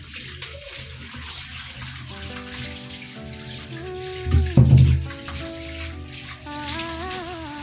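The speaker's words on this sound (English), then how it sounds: "Wash your tomatoes first." Tap water runs steadily into a kitchen sink as tomatoes are rinsed, with a brief heavier splash midway and soft music playing underneath.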